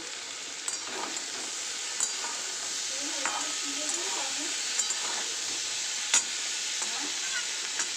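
Garlic and green chillies fry in hot oil in a pan while being stirred, producing a steady bright sizzle with sharp spatula clicks against the pan every couple of seconds.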